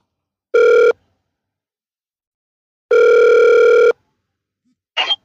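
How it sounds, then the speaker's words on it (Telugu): Telephone tones on a dropped call: a short steady electronic tone, a pause, then a longer one-second tone, clear and alone, followed by a brief faint rustle. "అది కాల్ డిస్కనెక్ట్ అయినట్టుంది"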